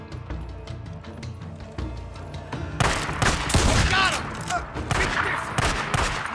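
Loud shotgun blasts in the zombie game Days Gone, arriving as a cluster of sharp bursts partway through over a low rumbling game background and music. A brief voice sound is mixed in.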